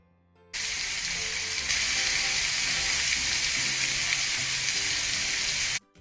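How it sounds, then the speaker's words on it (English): Fish slices hitting a hot skillet burst into a loud, steady broadband sizzle that starts abruptly and holds close and even for several seconds before cutting off, with no voices. "Now let's listen to the fish go sizzle."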